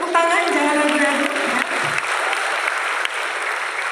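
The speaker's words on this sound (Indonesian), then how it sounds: "Boleh tepuk tangan, jangan ragu-ragu." An audience at a Fortune Indonesia women's leadership event breaks into applause after a brief voice at the start, with steady clapping from many hands that eases slightly toward the end.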